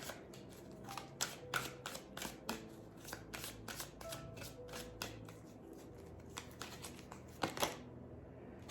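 Tarot cards are shuffled and drawn in a close, steady run of crisp riffling flicks and snaps, with a few louder slaps near the end and no talk.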